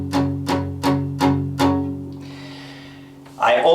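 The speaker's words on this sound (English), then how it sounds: "I do something called palm muting for each verse." Palm-muted acoustic guitar strumming on chords from a song, five short damped strokes in a steady rhythm, close and fairly loud, then a brief louder unmuted strum at the end.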